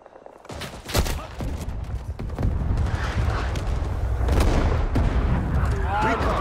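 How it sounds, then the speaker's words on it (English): A grenade blast in the Vietnam War shooter Rising Storm 2 on the Dong Ha map, heavy booms landing amid a continuous crackle of distant rifle and machine-gun fire, loud and close. "I'm gonna toss a nade over here."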